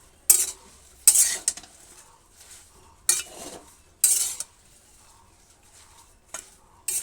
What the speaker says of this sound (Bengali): আর দিয়ে দেব কাঁচা লঙ্কা। অল্প নেড়ে চেড়ে দেব।